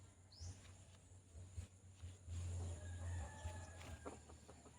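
A captive wild red junglefowl rooster clucking and crowing at moderate distance amid a low steady hum and outdoor background noise, the calls coming in short irregular bursts.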